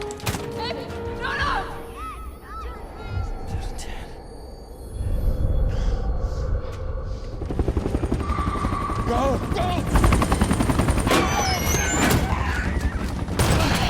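A helicopter in a zombie film scene, reached from a rooftop, drones with a steady rotor rumble that swells louder midway, mixed with crashing effects, gunfire-like bursts and voices.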